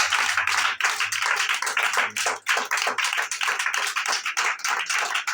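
A church congregation claps together in praise of Jesus, a dense, fast run of hand claps that carries straight through, with a low murmur of voices underneath.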